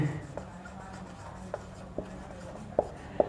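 Chalk or marker tapping and scratching on a board during a history lecture: a handful of faint, separate taps and short strokes over a low room hum, with a hint of speech in the background.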